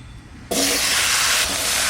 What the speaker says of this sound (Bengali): এবার লাউটা কড়াইতে ঢেলে দেব।